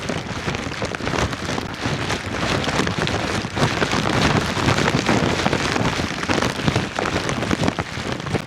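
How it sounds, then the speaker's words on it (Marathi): Steady, heavy rain falls continuously near a Surya temple on the Konkan route between Ganeshgule and Mervi, a dense close-up hiss of drops on surfaces with light wind, no voices. "पाऊस बी वाढलाय."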